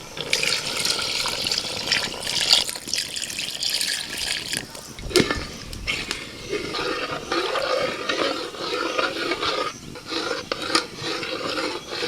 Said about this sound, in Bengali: আমি দিয়ে দিচ্ছি দেড় বাটি জল এই বাটির পরিমাপে দেড় বাটি জল দিতে হবে